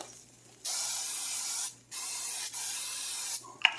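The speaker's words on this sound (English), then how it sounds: "I'm going to spray a little more spray." Three bursts of close spraying hiss from an aerosol cooking spray can onto a pan, the first long, then two shorter ones, ending with a small clink.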